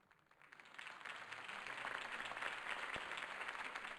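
Applause in the Batman The Telltale Series video game, broad and steady from a crowd at a campaign event, heard somewhat faint and continuing throughout.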